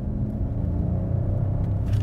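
Bentley Continental GT with a 6.3 engine on the move, a low steady engine rumble heard from inside the car, constant and moderately loud with no talking.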